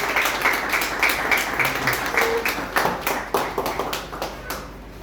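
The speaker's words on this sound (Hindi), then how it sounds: "कृपया सदन से तालियों की उम्मीद है।" Audience applause in a seminar hall on a new income tax act, a dense steady patter of many hands clapping for the full stretch, fairly close and loud, with no speech over it.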